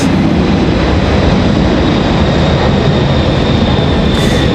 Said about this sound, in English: FedEx pilots are so gentle. They never depart out of here like rockets.